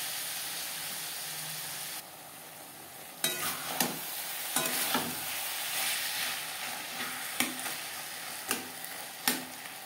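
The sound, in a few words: stirring and frying spice paste with onion and tomato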